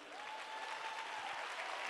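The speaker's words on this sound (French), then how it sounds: "Encore une fois, on l'applaudit." Brief, faint applause from an audience at a women's evening event, a soft, continuous wash of clapping heard from a distance.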